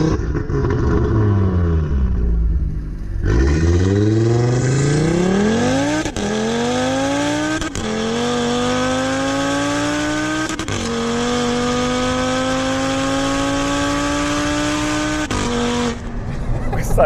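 A modified Audi TT RS rated at 600 hp and 700 Nm accelerates hard, its five-cylinder engine note climbing loudly and repeatedly through several quick gear changes, heard from close by.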